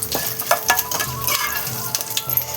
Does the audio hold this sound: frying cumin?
yes